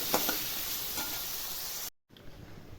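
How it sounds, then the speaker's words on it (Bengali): Salted potato pieces fry in hot oil in a kadai, giving a steady close sizzle with a few stirring scrapes, then a brief cut and a quieter sizzle. "দিয়ে এবার আলুগুলোকে আমি ভালো করে ভেজে নেব।"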